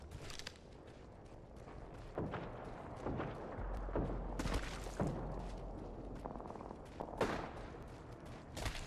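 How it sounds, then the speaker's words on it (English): Scattered gunfire in the battle royale game Apex Legends, sharp cracks and short bursts at varying distances over a low rumble, with occasional thuds and quiet gaps between shots. "there's some other side shooting at me"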